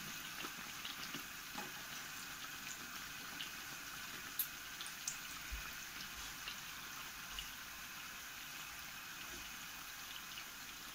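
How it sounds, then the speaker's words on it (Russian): Pies filled with wild strawberries frying in oil in a pan, giving a faint, steady sizzle with light crackles and pops throughout, no voices. "Пирожки жарятся."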